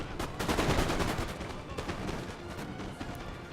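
Musket volleys in Napoleon: Total War crackle in dense, overlapping bursts, loudest early and thinning into scattered pops toward the end, with a faint voice in the background.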